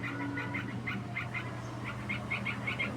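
Repeated short bird calls in clusters, moderately close, over a steady low hum and background noise; no talking.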